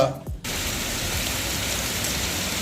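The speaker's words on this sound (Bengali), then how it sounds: "সেখানে এরকম জোরে ঝড় বৃষ্টি হচ্ছে" Heavy rain pours down in a dense, continuous roar after a brief moment of quieter sound, with wind adding to the steady wash.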